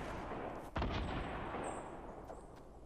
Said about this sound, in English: Oh, you got a fucking grenade launcher.